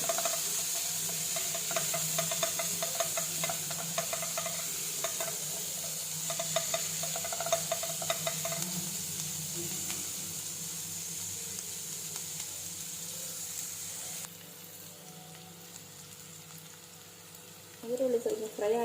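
Chopped onions frying in oil in a pan for a Karnataka ivy-gourd palya, giving a steady close sizzle with occasional stirring scrapes and a brief clatter near the end, no talking over it.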